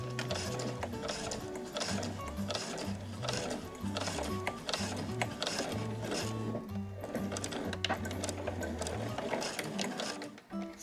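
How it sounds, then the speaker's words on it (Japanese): A sewing machine stitches a seam on a handmade fabric body bag, its needle mechanism running in a fast, steady mechanical rattle with a low rhythmic hum that pauses briefly, close and continuous throughout. "それでは最初に縫った縫い目から5ミリほど離れたところにもう1本2本目を縫います"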